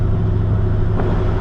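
A Chevrolet Camaro with lots of low-end torque, its engine running while driving, a loud, steady rumble close up with no talking over it.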